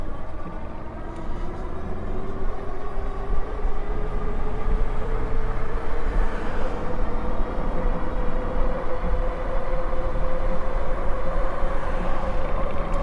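A Himiway Escape Pro electric bike is ridden at full throttle near top speed, with a continuous whining motor drone over steady wind and road rumble, loud and unbroken throughout.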